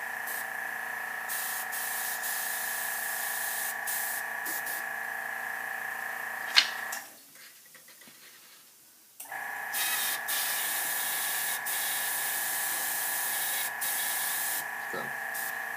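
An airbrush sprays paint onto a figure's hair in a steady close hiss, cut off briefly for a quiet pause before it resumes, with no talking.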